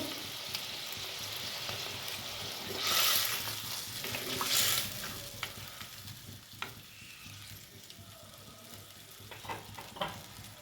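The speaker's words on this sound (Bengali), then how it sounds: "এবার বড়িগুলো দিয়ে দেবো।" Lentil dumplings (bori) frying with bottle gourd in a pan, a steady close sizzle with brief louder bursts of spattering and a few clicks of stirring, no voices.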